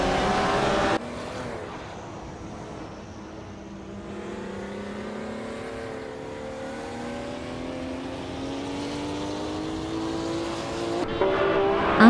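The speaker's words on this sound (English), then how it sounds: "D-Factor is leading in a classic 1977 Toyota Celica Turbo, known for its lightweight agility and turbocharged power." Race cars in a racing video game, a 1977 Toyota Celica Turbo among them, with engines droning and revving upward in a sustained climbing whine, loud and continuous, no voices.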